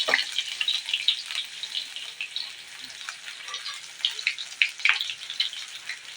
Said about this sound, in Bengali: তো তেলের ভিতর দিয়ে দেবো আমি দুটো শুকনো লঙ্কা, দিয়ে দেবো অল্প একটু গ্রেট করা আদা